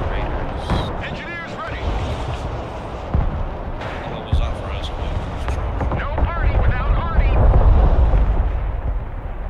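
Artillery shells strike in the Broken Arrow war game, heavy booming explosions and rumbling blasts repeating over several seconds, with a player talking over the din.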